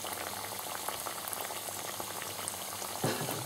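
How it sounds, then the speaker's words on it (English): Steady, dense sizzling and bubbling of spicy spinach and plantain rolls frying in hot oil, with a slightly louder crackle near the end and no talking. "our last two spicy spinach and plantain rolls are frying off here now"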